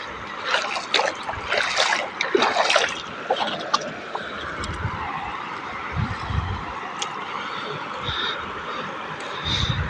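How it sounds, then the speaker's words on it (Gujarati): Rainwater flows and trickles steadily through Devpara village in Than taluka, a continuous wash of running water with scattered splashes and brief louder gushes, no voices. "કેટલું પાણી જાય છે"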